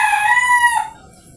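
A rooster crows once, close and loud, the drawn-out call ending abruptly and leaving quiet background.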